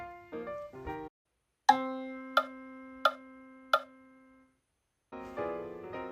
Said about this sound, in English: A measure made up of just whole notes would sound like this.